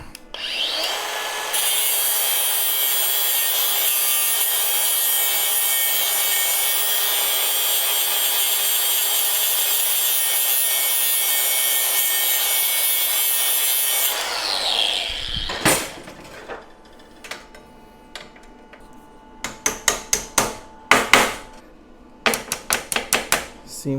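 A power tool trims back metal welding tacks on a 1:8 scale GP40 locomotive floor sheet, grinding steadily and loudly for about thirteen seconds, followed by a series of sharp metallic taps and knocks.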